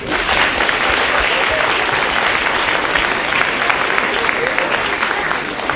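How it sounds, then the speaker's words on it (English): A crowd of students claps in steady, dense applause at a speech by the US Secretary of Education, loud and sustained without pause, filling the whole stretch. "give yourself a round of applause"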